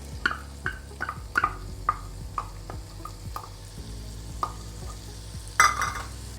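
Chopped onion sautéing in a pan for a chicken filling, with a low sizzle under a series of regular utensil taps and scrapes and one louder clatter near the end.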